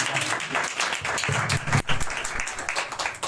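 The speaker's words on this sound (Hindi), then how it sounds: "चलिए बजा लें तालियां" An audience claps together at a Hindi-language church gathering, dense and lively applause that swells and dips, with a few sharper claps standing out.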